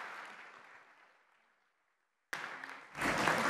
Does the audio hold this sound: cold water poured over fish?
no